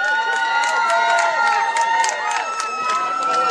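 At a 2009 beach volleyball match in Myslowice, the crowd claps in steady rhythmic bursts and cheers for the Czech pair, with a public-address voice talking over the applause and tonal music underneath.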